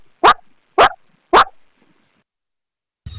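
A girl imitates a puppy's yelping with three loud, evenly spaced high yips, close up, followed by a brief silence and a faint noise at the end.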